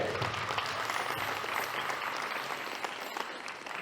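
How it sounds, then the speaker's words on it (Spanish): Wedding guests at Oliver and Kelly's ceremony applaud the groom, a full steady round of clapping from the crowd, somewhat distant, tapering slightly at the end. "¡Aplausos para el novio, fuerte!"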